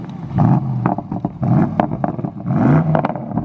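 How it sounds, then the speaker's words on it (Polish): A tuned 770 HP limited-edition BMW exhaust revs in a rough, rising and falling roar, with several sharp throttle blips close up over a steady burble. "Wiecie, co jest najlepsze w tym wydechu?"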